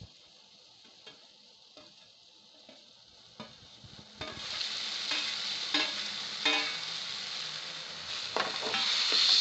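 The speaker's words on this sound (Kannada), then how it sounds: "ಈಗ ನೆಕ್ಸ್ಟ್ ಆಲೂಗಡ್ಡೆ ಆ್ಯಡ್ ಮಾಡ್ತಾಯಿದ್ದೀನಿ. 1-2 ಆಲೂಗಡ್ಡೆ ಹೆಚ್ಚಿ ಫ್ರೈ ಮಾಡಿ ಹಾಕ್ತೀನಿ ಇವಾಗ." Fried potato pieces tipped into a pan and stirred for masala avalakki: quiet scattered clicks and scrapes at first, then a louder sizzle rising midway with spatula strokes continuing over it, no talk.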